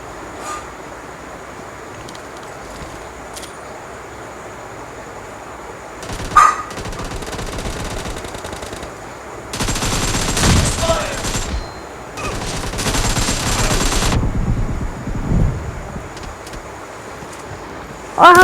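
Kar98k rifle gunfire and a grenade in PUBG Mobile Lite come as several loud, sharp bursts, the heaviest a few seconds apart, over a quiet background.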